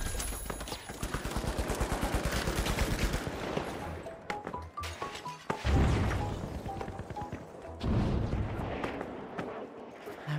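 Rapid bursts of automatic gunfire from a first-person shooter game ring out loud and close, with dense rattling volleys and short pauses between them, and no talking heard.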